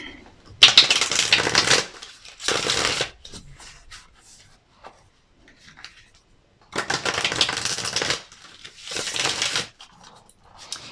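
Tarot cards are shuffled in four bursts of crisp riffling and flapping, with quieter handling of the deck between them and no talk.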